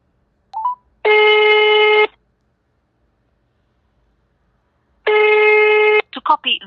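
Two long electronic telephone ringback tones sound loud and close, separated by silence, with brief beeps before the first and short chirps after the second.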